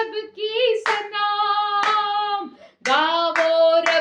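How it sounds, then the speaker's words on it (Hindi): A congregation claps along during a Hindi worship song at a Friday service, sharp hand claps landing at intervals beneath prominent sung voices. "सारे मिलकर ताली बजाओ"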